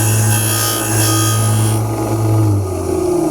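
Steady scraping and rasping of abrasive against a wooden Knox class frigate model hull, continuous and close, with a faint motor hum underneath and no voices.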